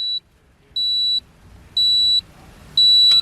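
Warning buzzer on an aftermarket gauge in a Nissan R33 dash beeps right after the ignition is switched on: four steady, shrill electronic tones, each about half a second long, with even gaps between them. The beeps are loud and close, with no talk.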